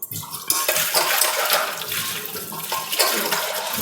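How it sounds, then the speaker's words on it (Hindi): Dishes and utensils are washed under a steady stream of running tap water, a continuous loud splashing rush with faint clinks, close by and without talk. "ये देखो बर्तन बर्तन एक बारी साफ करसूँ"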